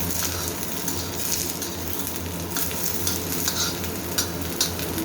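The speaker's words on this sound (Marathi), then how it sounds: "वांग्याच्या फोडी चांगल्या परतून घ्यायच्या." Brinjal pieces frying in a pan, heard as a dense, close sizzle with a constant crackle and occasional stirring scrapes throughout.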